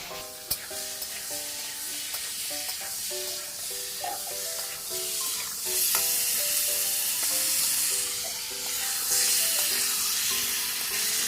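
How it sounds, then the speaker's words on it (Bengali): Chicken fries in a pan with a constant bright sizzle and hiss, set against steady background music throughout. "এলা চিকেনটা ভাজি নেন আপনারা"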